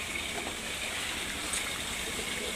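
Water pours and splashes steadily at a household tap in a village home, a continuous, fairly loud gushing rush with no talk over it.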